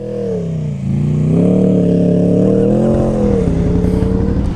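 An Aprilia Shiver 900 motorcycle engine idles and then revs up, a loud, close, throaty drone that rises and holds before easing back down.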